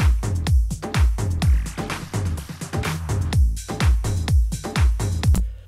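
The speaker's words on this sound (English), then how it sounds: "let's hear these fills with the track" Layered drum fills hit in dense, rapid bursts over a full dance track in a bootleg remix, loud and punchy, with booming low kicks and crisp snappy hits repeating throughout.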